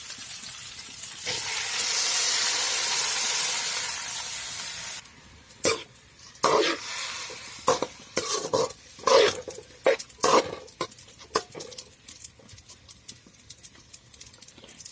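Dal tipped into a hot pan of oil, garlic, red chilli and browned onion gives a loud, sustained sizzling hiss, then settles into sharp, irregular clinks and scrapes of stirring up close.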